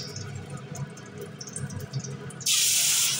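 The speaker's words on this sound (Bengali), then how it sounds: "মাছ ভাজার তেলেই জিরে ফোড়ন দিয়ে দিলাম।" Cumin seeds hit hot oil left over from frying boal fish, bursting into a sudden loud, bright sizzle after a stretch of quieter kitchen noise and low background hum.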